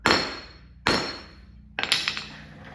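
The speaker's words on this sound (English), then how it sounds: "Smack this with a hammer and knock down that high spot on that lock washer" Three sharp hammer blows on a lock washer in the steering of a 1959 Chevrolet Impala: two single metallic strikes with ringing decay, then a third strike followed by a few quicker smaller taps, close and loud.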